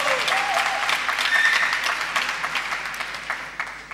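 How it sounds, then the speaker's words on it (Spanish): Audience applause at a science blog award ceremony, a steady wash of clapping that rises early, holds, then thins toward the end with a few louder individual claps, heard alone with no talk. "Fuerte aplauso también."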